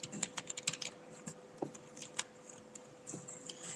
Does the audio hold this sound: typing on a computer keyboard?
yes